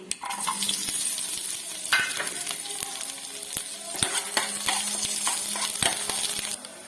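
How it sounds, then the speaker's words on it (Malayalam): Mustard seeds, shallots and green chillies sizzle steadily in a hot pan, a continuous frying hiss with frequent sharp crackles and pops and occasional light clinks of a utensil, close and alone. "അപ്പം നമ്മുടെ കടുകും ചെറിയുള്ളിയും മുളകൊക്കെ ഏകദേശം വഴന്ന് റെഡി ആയിട്ടുണ്ട്"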